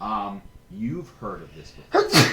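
A person sneezes sharply near the end, a short explosive burst following casual conversation among several people at a tabletop role-playing game session.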